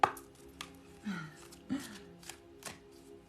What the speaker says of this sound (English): but I'm still going to shuffle.